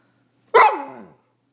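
A single close, loud dog bark, given on command during counting training, stands alone with a short tonal tail and no voices over it.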